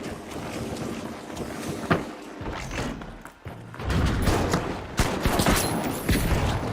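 Gunfire in the video game The Finals crackles as repeated sharp volleys, growing denser and louder in the second half over a windy, noisy background.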